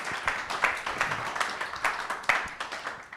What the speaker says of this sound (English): Please give a round of applause to our panel for their time.